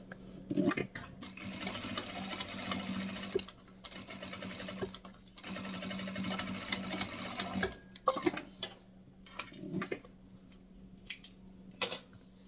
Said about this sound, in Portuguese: faz uma costurinha reforçada nessa parte aqui